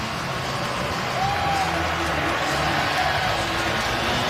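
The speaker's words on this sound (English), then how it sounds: "Now they're cheering." Stadium crowd at a Denver Broncos home football game against the Oakland Raiders, a steady distant roar of fans cheering beneath faint commentary.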